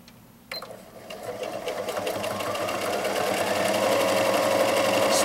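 A Janome DC1050 sewing machine stitches rib knit layered on polyester, starting after a brief click and building into a fast, steady mechanical whir close by.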